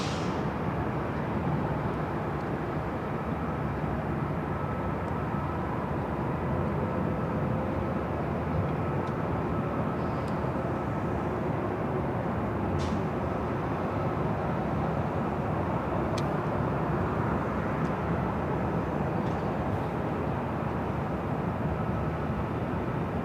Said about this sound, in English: Delta flight heading to Detroit. Delta Airlines flight 802. It's an A321.